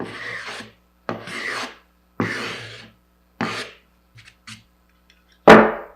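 Block plane rounding over the end of a wood board, five or six close, rasping strokes of about half a second each, with brief pauses, ending in a sharper scrape.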